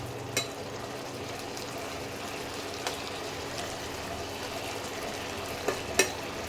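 Prawns frying in a pan give a continuous close sizzle with occasional sharp pops and stirring clicks, steady throughout with no talking.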